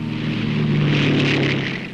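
Short Seagull aircraft flying overhead, a loud droning propeller roar with a rushing hiss that swells through the middle and fades slightly toward the end.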